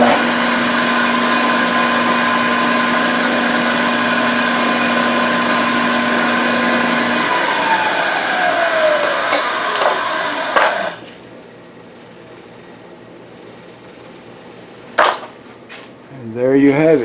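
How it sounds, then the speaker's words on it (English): A knee mill drilling holes in a metal adapter hums steadily with a whining tone for about ten seconds, then stops, leaving near silence broken by a couple of brief clanks and a short rising squeak. "now we'll go ahead and we'll drill the last hole"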